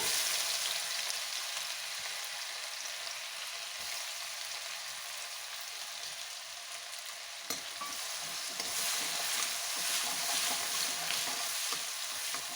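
Finely ground ginger and garlic fry with cumin in a pan, a loud continuous close sizzle that holds steady and swells slightly toward the end, with a single brief knock midway and no talking.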